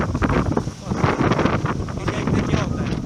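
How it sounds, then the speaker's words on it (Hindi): Strong wind buffets the microphone outdoors during a DJI drone test, a loud, constant roaring rumble with gusty surges and no pauses. "हवा बहुत तेज़ चल रही है और इतनी तेज़ हवा में ड्रोन उड़ाना मना है।"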